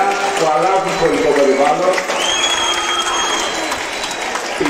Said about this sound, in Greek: Ένα χειροκρότημα για αυτά τα παιδιά